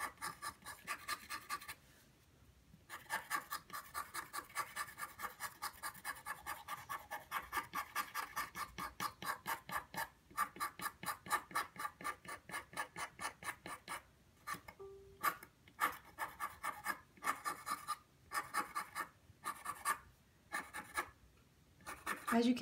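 A Conte pastel pencil is rubbed back and forth against an abrasive to sharpen it, giving a steady run of close, soft scratching and rasping strokes, with a few brief pauses near the end.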